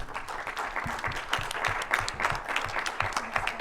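Audience applause at a conference on handling information in social conflict: dense, steady clapping from a crowd filling the room throughout, with no pause.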